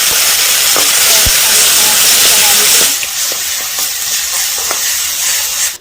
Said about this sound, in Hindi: ये चटनी है तो इसको भी अच्छे से हम भून लेते हैं इस तरह